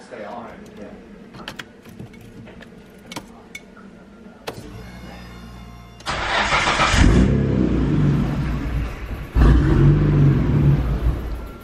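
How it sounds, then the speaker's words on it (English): A turbocharged Nissan Skyline GT-R engine with an HKS Racing Suction intake idles with clicks and whirs, then revs hard twice in loud bursts of roar, rising and falling. "we will be able to hear the turbos a little bit better, and maybe even like a blow off sound"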